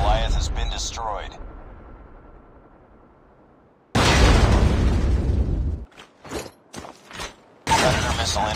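In the Call of Duty Mobile game, the XS1 Goliath is destroyed with a loud, dense blast that cuts in abruptly and roars for about two seconds. Sharper bursts follow, and a game announcer's voice is heard before and after.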